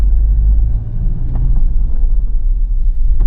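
A Toyota Innova Crysta ZX with manual gearbox, over 100,000 km driven, accelerates in third gear in power mode, giving a loud, low engine rumble heard from inside the cabin that stays fairly steady.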